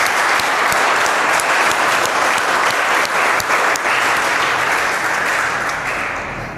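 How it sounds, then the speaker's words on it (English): A class of students applauds a classmate in a school classroom, steady dense clapping held at a loud, even level for several seconds before tapering slightly at the end. "Please clap for Chintu."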